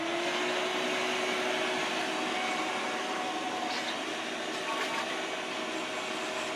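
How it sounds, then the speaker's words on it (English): A vacuum cleaner runs in an engine shop during a Cadillac 429 valve job, giving a steady, loud whining drone with a constant tone that holds throughout, close to the microphone. "All right, to the vacuum cleaner."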